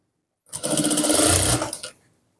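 A sewing machine stitching a Nihang Singh chola: one short, fast burst of rapid mechanical whirring and clatter, close and loud, lasting about a second and a half between silences.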